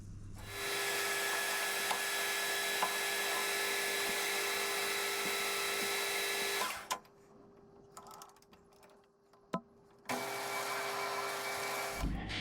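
A metal lathe parts off a workpiece, throwing hot chips. It gives a loud, steady broadband whine and hiss for about six seconds, then a quiet stretch with a few clicks, and the machine noise resumes near the end.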